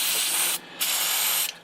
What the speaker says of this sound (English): So let's just spray it down.